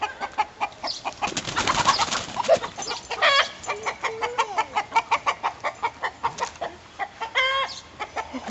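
Chickens and a rooster cluck and coo in a rapid, steady run of close calls, one bird after another, with a few louder squawks mixed in and no talking over them.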